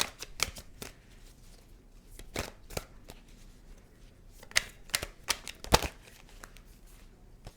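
Tarot cards being shuffled by hand, a run of crisp riffling card slaps with sharp clicks scattered through, then a single card drawn, close and clear with no talking.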